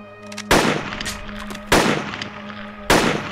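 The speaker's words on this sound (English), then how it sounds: "He's shooting near." Three loud, close single gunshots at roughly one-second intervals in ARMA 2 Project Reality, each a sharp broadband crack with a short decay over a steady low game hum.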